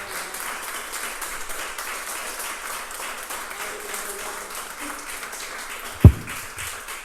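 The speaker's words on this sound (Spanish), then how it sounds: "Denle un fuerte aplauso al Señor" A church congregation applauds, a soft, continuous wash of clapping under a voice speaking over it, with one sharp thump near the end.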